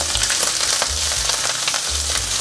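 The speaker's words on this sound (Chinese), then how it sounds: "直接把酸菜放进来炒香" Chopped pickled mustard greens stir-fried in oil in a wok make a loud, continuous sizzle, with faint scraping and stirring underneath.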